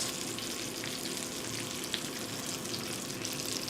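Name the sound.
meat cooking in a pan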